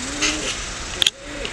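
Homing pigeons in a racing loft coo softly in low, throaty murmurs over steady background hiss, with a brief sharp click near the middle.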